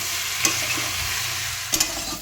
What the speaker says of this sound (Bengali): এবার 2 মিনিটের মতো নেড়ে চেড়ে কাঁঠালগুলো ভেজে নেব